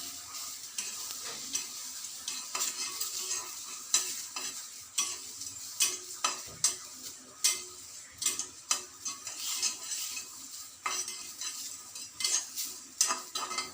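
Curry leaves frying in oil in a pan for chutney with seeme badane kaayi, a soft continuous sizzle broken by repeated scraping and clinking strokes of a spoon stirring, close and fairly even in rhythm.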